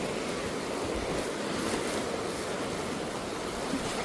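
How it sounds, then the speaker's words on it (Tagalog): Strong sea waves roar steadily and close, a dense continuous wash of surf with wind buffeting, no voices. "Ayan oh, lakas ng alon."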